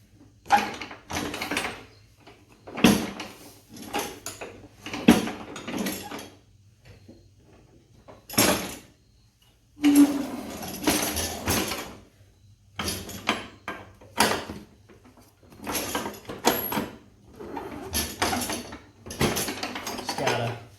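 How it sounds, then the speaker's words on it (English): A Craftsman 42-inch mower deck is worked out from under the mower, giving repeated scraping, clunking metal bursts in an irregular rhythm with short pauses, close up. "And finish pulling the deck out from underneath the mower here."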